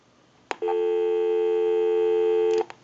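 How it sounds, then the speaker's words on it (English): A steady busy tone on an Ericofon Northern Electric telephone holds for about two seconds, framed by a click at the start and clicks at the end. "We'll call my number, and it'll be busy."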